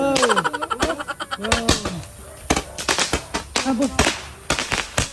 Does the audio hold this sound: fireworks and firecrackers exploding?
yes